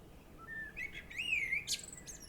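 A blackbird sings in a spring garden, a clear whistled phrase of rising and falling notes ending in a bright chirp, alone against soft outdoor background.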